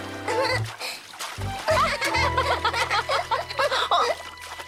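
Water splashes and sloshes repeatedly with children's voices and laughter mixed in, busy and close, over a constant low hum.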